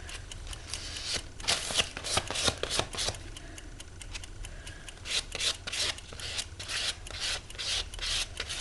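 A card scrapes and spreads paint across a journal page in repeated rasping strokes, close and fairly quiet, with an irregular rhythm of short rubbing passes.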